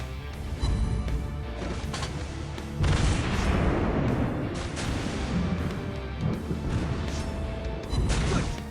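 The USS Buffalo cruiser in World of Warships Blitz firing rapid salvos from its guns, repeated heavy booms and crashing blasts rolling one after another over a dense rumbling battle backdrop, loud and continuous.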